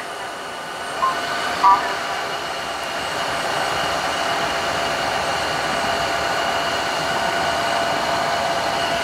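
A Tineco One S5 combo wet-dry vacuum mop runs in max mode, a steady whooshing motor-and-suction hiss close by that settles into a constant drone after a couple of faint clicks near the start.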